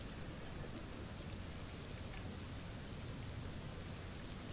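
Steady rain ambience from the video game Disco Elysium, a dense, even hiss of falling rain that stays constant and fairly quiet throughout, with no voices.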